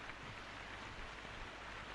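Rain falls as a steady, soft, broadband hiss that is faint and unbroken throughout, with no voices.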